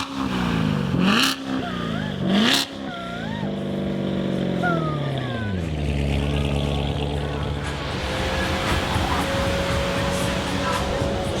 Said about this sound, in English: Give me a little rev.